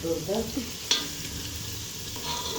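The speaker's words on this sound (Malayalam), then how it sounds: "നന്നായിട്ട് ഇങ്ങനെ വഴറ്റണം ഞാൻ കുറച്ച് ക്യാരറ്റ് കൂടുതൽ ഇട്ടുണ്ട് കേട്ടോ" Carrots and other vegetables sauté in a pan for bread upma, giving a soft, close sizzle with light stirring scrapes and a sharp clink of the spoon.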